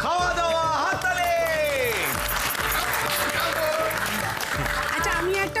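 Festival audience clapping, heard as a steady wash of applause under a loud musical score with rhythmic low beats and sweeping tones.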